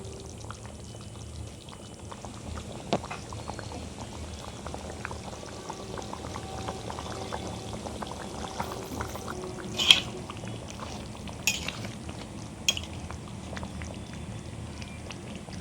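Pot of chicken curry with potatoes at a steady boil, a continuous soft bubbling and simmering that runs throughout, with a few sharper clinks and taps of a lid or utensil standing out near the middle.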